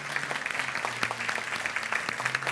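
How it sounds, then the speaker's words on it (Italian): Steady applause from an audience at a fashion show in Rimini, honouring designers Vittorio Ceccoli and Beatrice Rossi: dense, continuous clapping at moderate level through the whole stretch, with a faint low hum under it and no voices. "applauso per gli stilisti Vittorio Ceccoli e Beatrice Rossi."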